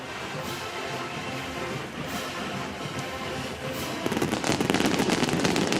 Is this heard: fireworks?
yes